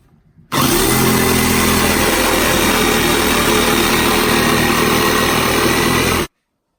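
A power tool cuts through a kitchen cabinet part during a kitchen install: one loud, steady whining burst that starts abruptly, runs without a break for about six seconds, and then stops, with no talking.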